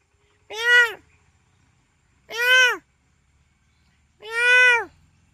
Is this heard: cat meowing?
yes